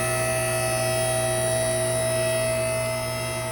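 A steady mechanical hum drones on without pause, a hydraulic car hoist pump running at constant pitch as it raises a car, with no voices over it.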